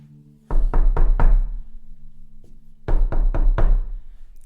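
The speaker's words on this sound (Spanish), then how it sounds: "se escucharon golpes en la puerta de la casa de los Maldonado. Llamaban con mucha insistencia" Loud knocking on the front door of a house near dawn: a burst of four rapid knocks, a pause, then another insistent round of four or five knocks, close and sharp.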